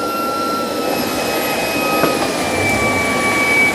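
A Shark PowerDetect cordless vacuum runs steadily on a dirty floor, a loud whining motor with high tonal whistles and a slight swell in suction partway through, no talking.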